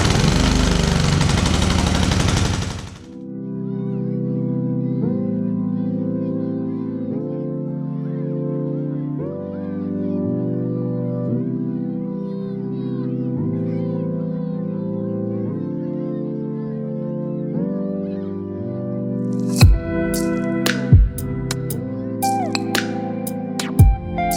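Pressure washer cleaning a Mopar 318 engine, opening with a loud rushing blast of spray that cuts off into a steady droning motor whose pitch steps up and down, with sharp clatters and knocks near the end.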